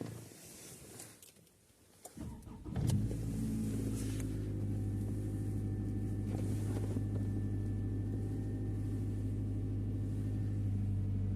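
Toyota Camry 40 engine starting up: a brief cranking burst, then a steady low idle hum that settles in and holds evenly, close and moderately quiet, with no voices.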